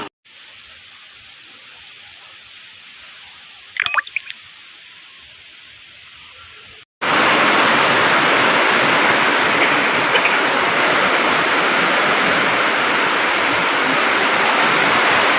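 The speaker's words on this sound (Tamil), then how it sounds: "பாருங்க எப்படி மழை பெய்யுது பார்த்தீங்களா? செம்ம மழை." Heavy rain pours down in Chennai during Cyclone Fengal, a dense, steady roar of water. It comes in abruptly partway through and then holds loud and constant. A brief faint rush precedes it.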